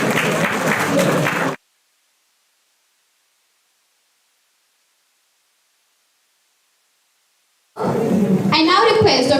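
An audience at an international conference on communication, security and artificial intelligence applauds in two loud, dense bursts separated by a long silence.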